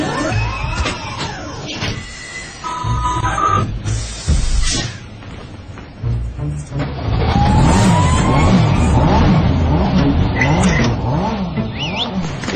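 A car engine revs and accelerates on the road, loud and close, with brief tire skids and swelling engine sweeps. The engine noise grows steadier and fuller in the second half.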